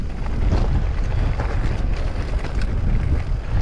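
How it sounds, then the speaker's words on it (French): Steady, full-bodied wind rumbling across the microphone on a mountain bike trail in the Alps at Vars, a continuous low roar with gusty buffeting and no voices. "Il y a un bon petit vent."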